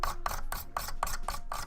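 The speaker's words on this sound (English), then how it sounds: "There's a little bit less scraping here." A knife blade rasps steadily across a plastic Nerf MA37 blaster part as it is shaped by hand, making about seven rhythmic, close, fairly loud scraping strokes with no talking.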